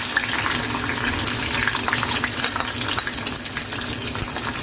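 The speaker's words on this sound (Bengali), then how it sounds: "ভালো করে পেঁয়াজটাকে ভেজে নিচ্ছি" Chopped onions fry in oil in a wok with bay leaf and cinnamon pieces, giving a steady, loud sizzling crackle throughout with no speech.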